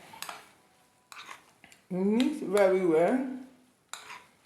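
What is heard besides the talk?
stirring vegetables in a pot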